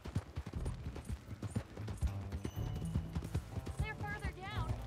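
Horse hooves clip-clopping in Red Dead Redemption 2 as riders set off, rhythmic thuds under a music score and occasional speech, with a brief whinny-like sound near the end.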